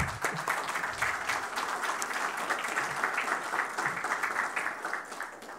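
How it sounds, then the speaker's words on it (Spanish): Steady applause from an audience at a community assembly presenting the proposals of a peoples' parliament, sustained and fairly even throughout, with no talking over it. "un fuerte aplauso para los compañeros"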